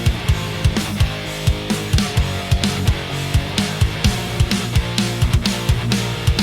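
EZdrummer 2 drum pattern with a swapped-in snare: a steady, loud groove of punchy kick and snare hits repeating evenly for several bars, with no talking.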